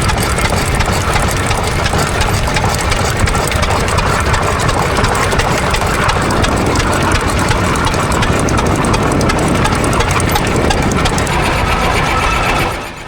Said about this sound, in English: this is the oldest tractor on site, the 1916 International Mogul 816